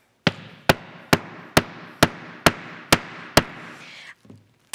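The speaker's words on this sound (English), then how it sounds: "you're gonna use your handy hammer and we're ready to pound." A hammer pounds a Dritz rivet on a sturdy work surface while building cosplay armor: eight sharp, evenly spaced metallic strikes, loud and close, followed by brief quiet handling sounds.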